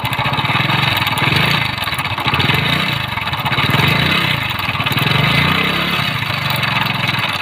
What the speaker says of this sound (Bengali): তো এর ইঞ্জিনের সাউন্ডটা শুনুন একটু